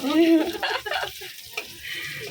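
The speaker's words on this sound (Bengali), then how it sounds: "চলো, মাছটা ভাজা হয়ে গেছে, তুলে নিই।" Prawns fry in hot oil, a close bubbling sizzle that rises and dips, with a brief voice at the start and soft handling noises.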